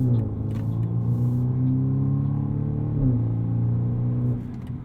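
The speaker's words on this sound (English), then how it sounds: "the turbo spools up and sort of surges forward" A 2020 BMW M235i Gran Coupe with a big single turbo, tuned hard, pulls under acceleration with a loud, steady engine drone and rising rumble that briefly dips and recovers mid-pull before fading at the end.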